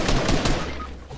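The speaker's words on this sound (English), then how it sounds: "literally just shoot him once with an AR and he's dead" Assault rifle fire in a video game, a short burst of three close, loud shots in quick succession that fades into a noisy tail.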